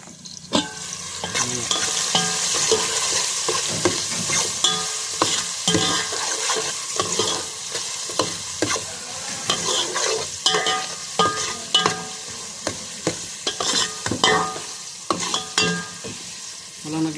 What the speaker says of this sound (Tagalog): magpiprito pa pala ako guys ng tuyo ito